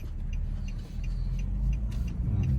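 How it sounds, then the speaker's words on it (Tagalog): Road traffic rumbles steadily around a moving car during a commute drive, a dense low engine and tyre drone with faint intermittent higher tones above it. "Traffic."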